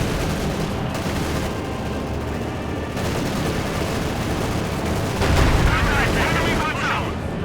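Field guns and a Panzer IV fire in a Company of Heroes 2 battle, with dense overlapping booms and gunfire rumbling continuously, a heavier explosion near the end, and a voice talking over the clamor.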